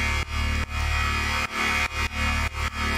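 Synth bass with a comb filter in Bitwig Studio, producing an alien, gritty dubstep-style tone: loud, thick repeated notes in choppy rhythmic bursts, close with no other sound.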